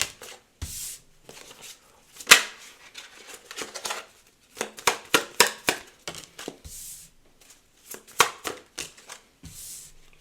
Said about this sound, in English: give me a few minutes to pull some cards